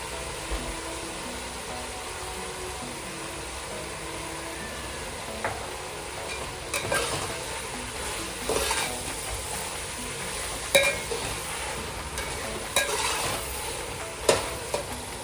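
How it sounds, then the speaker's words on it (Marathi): Fried rice with dark soy sauce is stir-fried in a pan at home, a steady close sizzle with repeated scraping and tossing knocks of the spatula growing busier toward the end, no voices. "आता त्यात डार्क सोया सॉस टाकून परतून घेऊया।"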